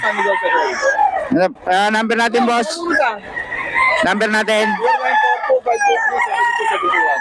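Loud roosters crow close by, several long calls overlapping with clucking, while people talk at the same time.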